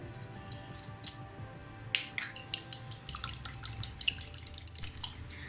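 Four eggs beaten with salt and black pepper in a bowl, with a utensil tapping the sides in quick, irregular clicks that speed into a rapid rhythm, close and clear.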